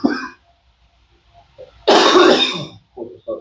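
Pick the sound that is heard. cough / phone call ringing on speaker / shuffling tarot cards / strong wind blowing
cough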